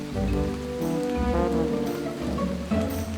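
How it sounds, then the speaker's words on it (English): Rain falling steadily on a surface, a continuous close wash of patter over a low rumble, with no voices. "It started raining."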